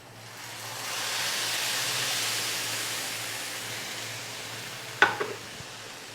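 Half a litre of blended yogurt is stirred into a sautéed mixture in a hot pan, giving a steady close hiss that swells then settles, with a sharp utensil clink and scrape toward the end.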